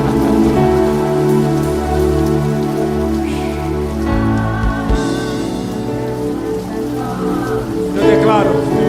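Steady rain falls on a surface, a dense continuous patter that holds loud throughout, with a low sustained drone running beneath it.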